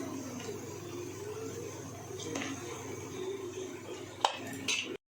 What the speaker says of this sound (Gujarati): તેને પણ હવે મિક્સ કરી લેવાનું છે આ રીતે અંદર માવામાં